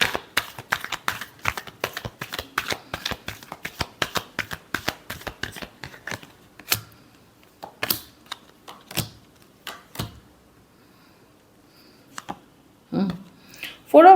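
Tarot cards shuffled by hand in a dense run of quick riffling flicks, then slowing into a few separate slaps and taps of the deck, close and crisp in an otherwise quiet room.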